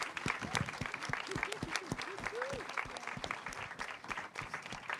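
Audience applause for the candidates at a pastry contest trophy ceremony, steady moderate clapping across the whole stretch with a voice speaking over it.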